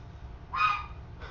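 A goose lets out one loud, nasal honk, followed a moment later by the start of a second, fainter honk against a quiet background.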